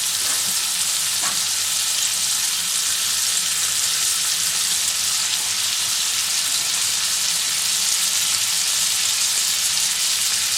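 Butter sizzles loudly and steadily in a hot pan for a sirloin steak sandwich, a dense unbroken hiss filling the whole stretch with no talking.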